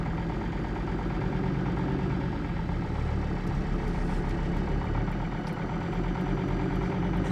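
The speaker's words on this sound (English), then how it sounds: "It's not the smoothest idle I've ever heard, for sure" A camper van engine idles roughly in arctic cold, a loud, close, continuous low rumble with an uneven, lumpy rhythm and no talk.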